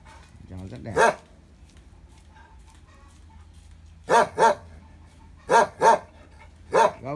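A dog barks at a rural home with a garden, pond and livestock pens, giving loud, close single and double barks spaced over several seconds against a low steady background hum.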